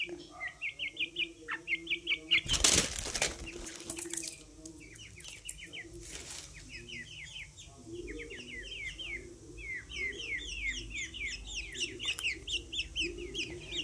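Partridge (teetar) chicks chirp and cluck in rapid, high, overlapping peeps close by, with a brief burst of wing flapping and scuffling partway through and the chirping chorus continuing after.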